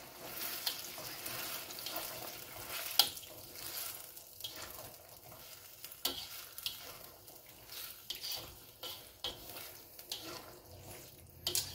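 Chili paneer gravy with onion chives stirred in a pan, soft scraping and wet sizzling swishes coming in irregular strokes, close-up with no talking.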